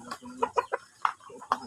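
Hens cluck in a series of short, close, separate calls at a Filipino backyard farm where eggs are being collected, with a few quick notes rising and falling over a quiet background.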